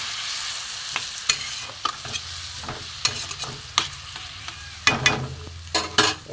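Hilsa fish head frying with Malabar spinach in a home pan for a Bengali chorchori, with faint sizzling and repeated sharp stirring scrapes and clinks as a little water goes in; no voices.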